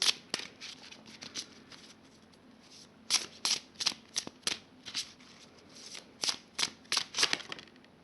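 Angel oracle cards being shuffled by hand before a card is drawn, a run of quick riffling flutters and crisp snaps that arrive in close bursts, near and fairly loud, with no talk.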